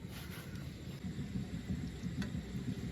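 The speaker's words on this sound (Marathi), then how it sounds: "नेमका पाऊस पण चालू झाला बघा" Rain falling at night on a forest campsite, a steady broadband hiss over a low, rumbling wash that holds evenly for the whole stretch, with no voices.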